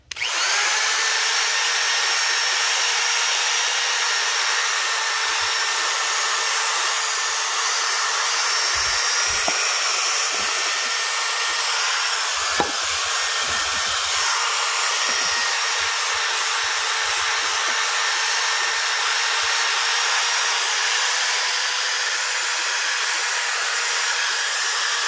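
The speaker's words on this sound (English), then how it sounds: "see how the wire brush does" A power wire brush scours rust off a 1989 wheel, a steady high-pitched whine with a harsh abrasive hiss that runs close and loud for the whole stretch, with a brief catch partway through and no talking.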